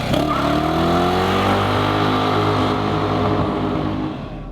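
A 1982 Porsche 911 SC's air-cooled engine roars loudly and close, holding a steady, rich drone that eases slightly toward the end, with no voices.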